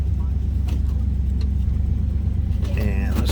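A 1972 Buick Skylark two-door hardtop's engine runs at high idle, a steady deep rumble that stays loud and close, with a voice speaking briefly near the end.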